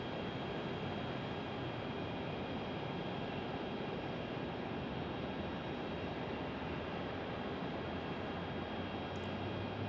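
A plane at Phoenix Sky Harbor Airport heard during takeoff as a steady, broad roar of jet engines filling the whole stretch, distant and fairly faint, with no voices.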